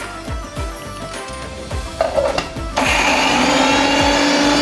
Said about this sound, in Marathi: हे बघा मस्त दळून झालं आहे आपलं.